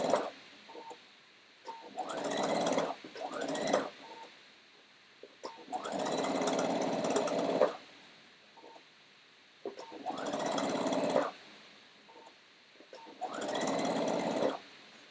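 A sewing machine stitches knit fabric in four separate bursts of rapid mechanical whirring, each lasting about two seconds, with brief pauses and light handling noises in between.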